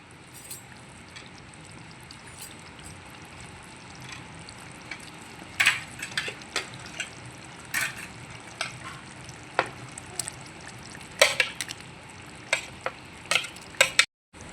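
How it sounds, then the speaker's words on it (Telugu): Ivy gourds are tipped into a simmering pan and stirred: a scatter of sharp clinks and scrapes over a steady low bubbling sizzle, with no voices. "ఇప్పుడు దొండకాయలు వేద్దాం"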